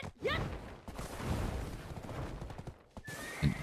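Horse hydra creature from the Black Desert video game gives a loud, rising whinny early on, followed by hoof-like clip-clop and clattering game effects, with another sharp sound near the end.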